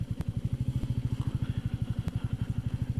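A Royal Enfield Meteor 350cc motorcycle thumps along on a ride through busy winter streets, its single-cylinder exhaust pulsing in a steady, even rhythm, loud and close throughout.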